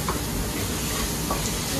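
Onions stirred and cooking in melted butter in a pan for butter chicken, with a continuous close sizzle and the scrape of the spoon running under it, no talking.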